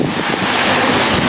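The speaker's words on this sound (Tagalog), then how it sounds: "Samahan mo pa ng mahangin na panahon." Cold, gusty wind blows outdoors in Yokohama, roaring steadily and buffeting the microphone for a brief moment, with no voices.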